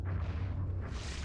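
A deep, rumbling explosion from the GameCube game Eternal Darkness, with a low booming body that sustains for about a second before tapering off, heard alone.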